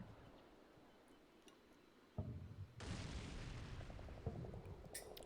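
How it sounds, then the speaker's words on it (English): Air attack run in Combat Mission: Cold War, heard as a sudden low boom followed by a sustained loud rushing roar of explosions and jet noise that holds for several seconds. "sounds like another attack run"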